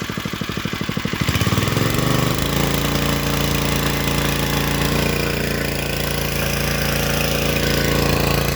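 A Honda petrol motor pump engine feeding twelve sprinklers is revved up, its rapid putter rising into a loud, steady high-speed drone that holds close and constant to the end.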